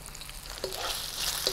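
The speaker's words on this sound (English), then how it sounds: "A nice sizzle to it." Garlic and potatoes sizzle in olive oil in a pan, a soft, continuous frying hiss with a few faint stirring clicks.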